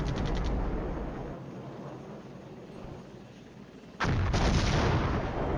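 Artillery fire in the Cold War wargame Flashpoint Campaigns: a heavy boom at the start decays into rumbling, then another sharp, loud blast hits near the end.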